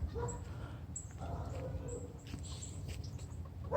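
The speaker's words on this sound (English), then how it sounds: "I got a curious dog" A curious dog on a homestead gives soft whimpers and a few brief yips close by, fairly quiet over low background rumble, with a voice briefly audible.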